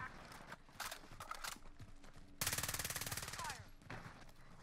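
Gunfire in the Warzone video game: scattered shots, then a loud rapid automatic burst of evenly spaced rounds lasting about a second and a half, with quieter shots and game noise around it.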